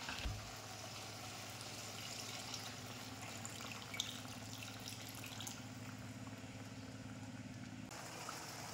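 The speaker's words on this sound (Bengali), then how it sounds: "আমি এখানে ডাবের যে জলটা আছে সেটা দিয়ে দেবো" Coconut water pours into a cooking pot for a prawn curry, a steady faint trickling splash that runs almost unbroken, with a brief change near the end.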